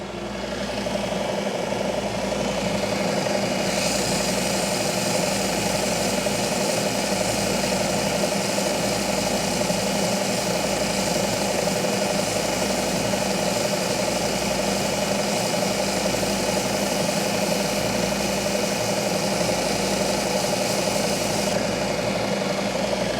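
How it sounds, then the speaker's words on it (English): A belt sander runs steadily at close range while a guitar saddle blank for a Gretsch guitar is sanded down toward thickness, giving a continuous motor hum with a constant grinding hiss that holds evenly throughout, no voices. "I'm going to get this close to thickness on the belt sander"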